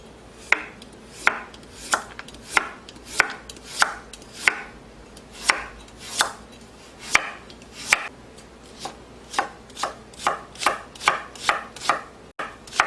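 A knife chops half an onion and a third of a small carrot on a board in steady, close, crisp strokes, about two per second throughout, with no talking.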